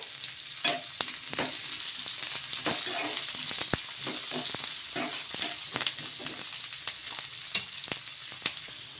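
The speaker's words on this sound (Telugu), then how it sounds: "కట్ చేసి పెట్టుకున్న ఆనియన్స్ ముక్కలు అలాగే పచ్చిమిర్చి ముక్కలు వేసుకొని ఇవి కొంచెం మగ్గే వరకు" Chopped onions and green chilies sautéing in a pan for a sabudana breakfast dish, a steady loud sizzle broken by repeated scrapes and taps of a spoon stirring, with no speech.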